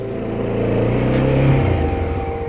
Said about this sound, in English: So we will start the vehicle and we will review it.